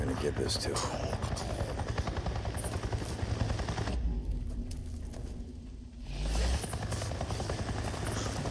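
A helicopter in the open-world biker game Days Gone chops loudly and continuously, its rotor beat dropping away briefly midway before returning, mixed with game ambience and talking voices.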